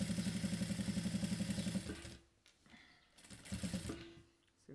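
Sewing machine stitching a children's zippered pouch, topstitching through the flap and lining: a close, steady rapid whir of stitches for about two seconds, a pause, then another short burst of stitching.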